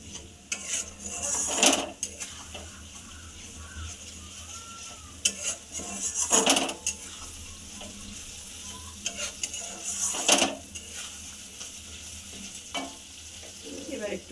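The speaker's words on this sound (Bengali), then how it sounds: "এবার মশলাটাকে ভালো করে কষবো।" Spice masala frying in a pan and stirred with a utensil, with repeated metallic scrapes and clinks against the pan over a soft, steady sizzle.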